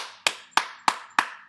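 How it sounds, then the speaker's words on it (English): Four sharp hand claps ring out close and loud at a steady, even pace, each snapping crisply and fading quickly before the next. "that's me clapping"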